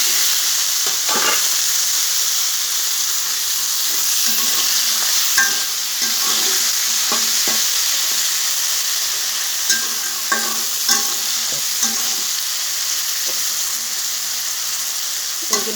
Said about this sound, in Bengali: আমি বেগুনগুলিকেও ভেজে নিচ্ছি।